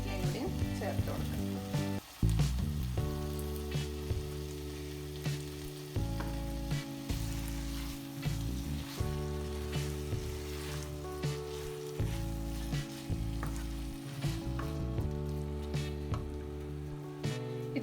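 Beef liver roast frying Kerala style in coconut oil with curry leaves, a loud continuous sizzle and crackle. Intermittent stirring scrapes and a low repeating hum run underneath.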